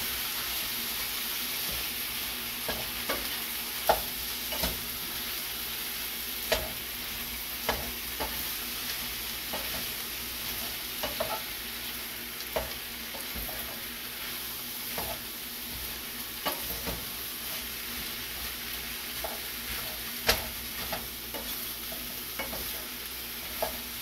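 Turnip vegetable dish cooking in a pan while being stirred, with a continuous sizzle punctuated by repeated sharp scrapes and clicks of the utensil against the pan, close and without speech.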